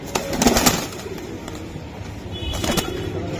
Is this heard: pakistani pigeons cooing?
yes